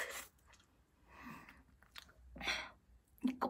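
Kyoho grape jelly with a skin-like outer layer chewed up close, with wet squishy bites and crunchy bursts in separate clusters and quiet pauses between them.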